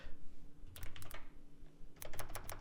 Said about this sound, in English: Actually, I have a new keyboard over here.